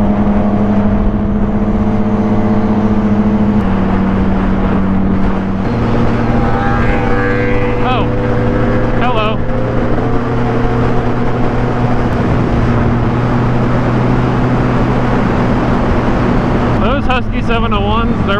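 A Husqvarna 701 motorcycle being ridden, its steady engine drone holding a constant pitch with a brief gear change early on, heard close and loud under someone talking.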